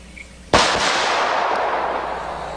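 A powerful handgun, stronger than a .44 Magnum, fires a single loud shot close by, its sharp crack followed by a long decaying outdoor echo.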